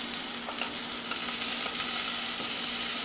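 Sliced onion with chili powder fries in a pan for vegetarian burritos, giving a soft, steady sizzle with a few faint scraping ticks, fairly quiet and close.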